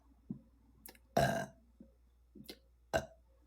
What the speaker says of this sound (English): After burp.